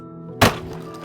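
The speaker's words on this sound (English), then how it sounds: "making the sound of the piano landing" A dropped piano lands with a single heavy wooden thunk with a sharp cracking edge, followed by a brief, fading resonant ring.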